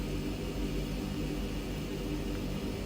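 A Twin Otter turboprop engine in Microsoft Flight Simulator 2020 roars as a steady, even broadband drone with a low rumble beneath. The level stays constant throughout, and no voices are heard.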